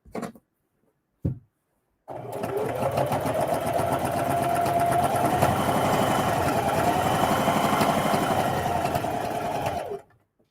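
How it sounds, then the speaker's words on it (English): A sewing machine runs steadily for about eight seconds, stitching right along the edge of fabric on a lunch tote bag, with a couple of brief clicks before the motor starts and no talking. "when I come to the edge, I'm just sewing the edge down pretty much"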